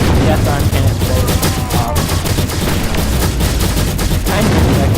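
An arm cannon firing in a video game, a loud, dense volley of rapid gunfire-like blasts that rattles on continuously at close range.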